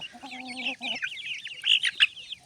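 Young chicks peck at corn, giving soft clucks and high peeping chirps in quick uneven bursts close by, with light tapping and no voices.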